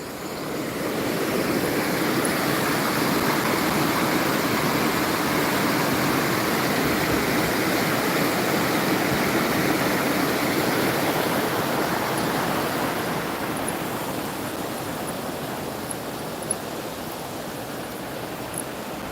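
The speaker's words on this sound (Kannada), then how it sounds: "ನೀರಿನ ಹರಿವಿನ ಶಬ್ದ ಕೇಳಿ ಹೇಗಿದೆ ಅಂತ" Flowing water near a panchakarma retreat gives a steady, loud rush of broadband noise that holds almost unchanged for nearly twenty seconds, with no voices over it.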